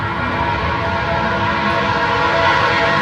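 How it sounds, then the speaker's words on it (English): A loud, steady rumble of a train going by up close, with continuous broadband roar and no pauses. "Train."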